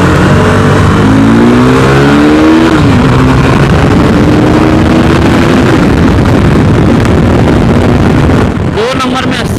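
A KTM RC 390 motorcycle engine rises and falls in pitch as the rider accelerates and shifts through gears, loud and close under heavy wind rush, ending in a brief drop-off.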